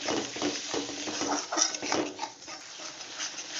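Masala spices being stirred and fried in a pan for a sardine curry, giving a close, steady sizzle with soft scraping strokes of a spoon over a few seconds.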